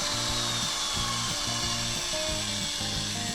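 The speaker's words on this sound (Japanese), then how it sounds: "でかいドリルも大丈夫です。" A large electric drill powered by a car sub-battery runs close and loud, a continuous grinding drone with a rhythmic low pulsing that repeats about every half second.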